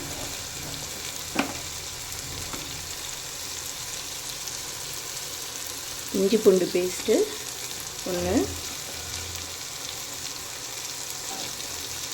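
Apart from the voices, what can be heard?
sautéing onions and tomatoes in pan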